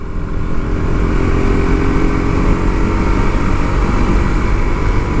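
A Suzuki GSX-R motorcycle ridden fast at night on a 300-foot road, its engine droning loud and steady at high revs with constant wind noise and no voices.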